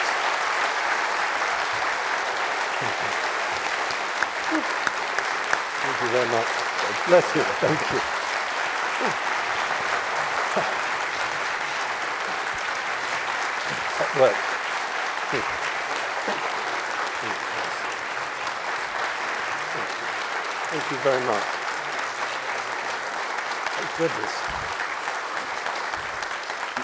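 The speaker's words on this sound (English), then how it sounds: "You win the prize for the longest round of applause." A long, sustained round of applause from a lecture audience after a public talk, an even, dense wash of clapping that carries on while someone speaks briefly over it.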